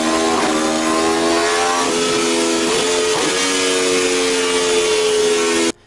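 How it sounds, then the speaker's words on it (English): An Aprilia RSV4 sport motorcycle engine, a 217-horsepower superbike, revs loud and close with sustained high-pitched harmonic tones, rising and falling across several blips, then cuts off abruptly at the end. "Let's get a sound check of what the RSV4 sounds like."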